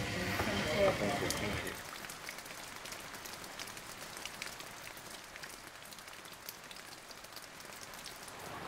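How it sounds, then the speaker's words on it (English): Steady rain patters outside in the Taiwanese mountains, a dense, even hiss of drops on surfaces that carries on alone after a brief louder start. "it's raining outside and it's perfect tea weather"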